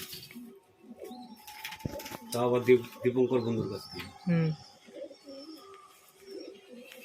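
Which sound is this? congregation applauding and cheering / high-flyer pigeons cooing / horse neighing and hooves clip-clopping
high-flyer pigeons cooing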